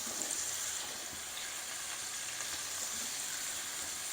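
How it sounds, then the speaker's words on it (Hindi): Mutton mince with capsicum sautéed over high heat produces a soft, steady sizzle, fairly faint and continuous, with no talking. "हल्का सा फ्राई करेंगे इनको, ज़्यादा नहीं करेंगे, थोड़ा सा सौते करेंगे, बस इतना फ्राई करना है।"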